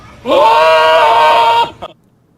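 A goat bleats once in a loud, wavering, nasal cry lasting over a second, close and alone, ending in a short trailing catch.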